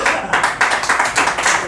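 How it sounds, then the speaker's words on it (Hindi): Meeting audience clapping in a steady burst of repeated bright claps, close and fairly loud, continuing through the whole short stretch without talk. "तालियां अभी आधे लोगों ने बजाई, आधे लोगों ने नहीं बजाई है"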